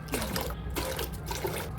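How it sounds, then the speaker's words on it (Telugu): Water poured into a thick-bottomed pot makes a brief, continuous close trickle and splash. "9 కప్పులు వాటర్ వేసుకోవాలి"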